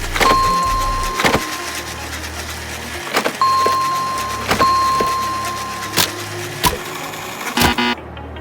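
A small homemade caterpillar-track toy car drives over obstacles, a whirring electric motor hum with a thin steady whine, broken by sharp clicks and knocks from the tracks and frame, up close.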